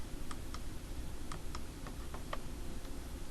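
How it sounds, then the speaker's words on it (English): Computer keyboard keys pressed several times in an uneven run of crisp, faint clicks, close up and with no speech. "press the one on the keyboard, save this"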